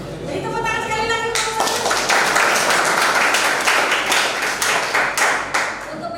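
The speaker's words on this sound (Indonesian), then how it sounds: "Jadi tepuk tangan sekali lagi." Classroom audience of students claps together after a teaching session, a dense burst of many hands that sets in after a brief spoken lead-in and holds steady to the end, fairly close and loud, with children's voices faintly mixed in.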